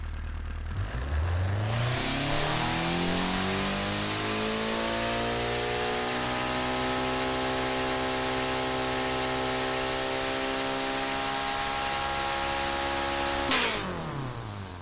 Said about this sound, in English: Let's quickly just do a dyno pull.